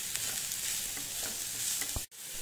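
Cabbage and grated carrot fry over a medium flame with a steady close sizzle, while a spoon stirs through them in soft scraping strokes and one sharp dropout cuts the sound briefly near the end.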